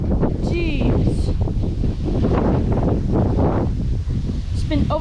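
Strong wind of at least 20 mph blows outdoors on an overcast day, a loud continuous roar buffeting the microphone throughout, with no talk.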